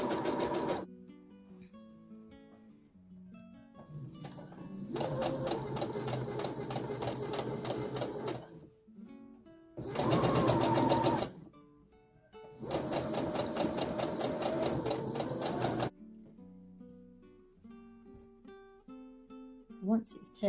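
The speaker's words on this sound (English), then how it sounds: "you're going to try and sew on the same line again." A sewing machine stitches a rolled ruffle hem in several long bursts of steady, fast, loud whirring, with quieter pauses and handling noise in between.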